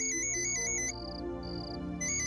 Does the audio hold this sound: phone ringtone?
yes